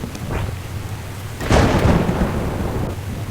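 Thunder rumbles with steady rain during a nighttime storm in the Indian Bikes Driving 3D game, a loud crack swelling around the middle and then rolling on under the constant downpour, with no talk.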